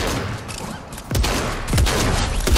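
Harpoon gun in Fortnite firing in a busy fight, a few sharp loud shots with booming low thumps landing amid dense, continuous gunfire and game noise.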